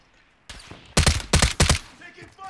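Sniper rifle fire in Call of Duty: Warzone, three loud sharp cracks in quick succession after a fainter shot, each with a brief ringing tail.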